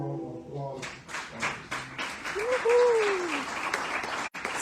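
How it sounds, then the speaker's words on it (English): Applause from a small audience at a government digital technology showcase, sparse separate claps quickly swelling into fuller clapping while a voice speaks briefly over it. "I think eGov deserves a big round of applause."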